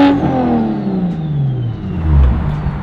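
A BMW N55 engine with a big single turbo revs loudly and close by, a steady rising and falling engine roar with whir over about three seconds and no talk.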